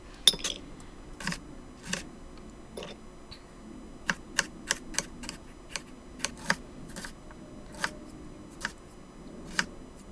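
Knife dicing an onion on a cutting board while preparing salsa verde enchiladas: a run of sharp, close chopping taps at irregular spacing, some quick clusters and some single strikes, heard without speech.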